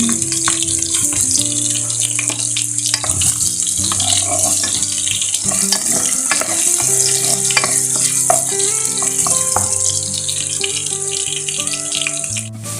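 Chicken pieces for chicken rice frying in a hot pan, a loud, steady sizzle running throughout with occasional scrapes and stirring clatter, no voices.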